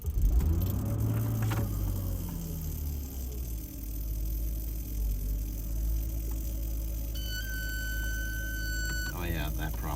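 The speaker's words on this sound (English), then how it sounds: "Now, let's start the car." A 1994 Mercedes engine cranks and catches, a low rumble that settles into a steady idle, with a brief high tone near the end and a voice speaking over it.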